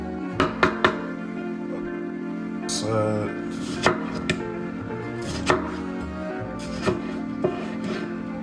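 Knife rough-chopping salad vegetables on a cutting board, a run of sharp, separate chops at an uneven pace, close and clear, with a steady background hum underneath.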